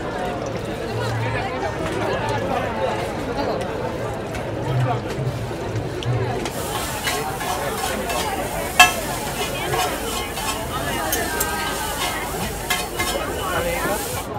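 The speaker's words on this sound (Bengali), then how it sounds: "এইখানে একদম গরম গরম ভাজা হচ্ছে।" Bhetki fish frying hot in oil at a Santiniketan Poush Mela food stall, a steady sizzle beneath busy crowd chatter and nearby voices, growing brighter and crackling more partway through.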